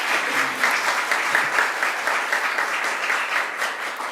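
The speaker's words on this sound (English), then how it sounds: "Let's give them another round of applause." A crowd applauds at a governor's bill-signing event for reproductive healthcare, a steady wash of clapping at moderate level that continues evenly for about four seconds.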